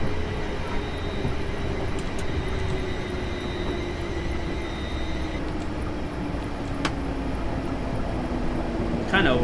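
An SWR Class 707 electric train in Train Simulator 2020 runs with a steady rolling rumble and a slowly falling motor whine, with a few brief clicks and a sharper burst at the end.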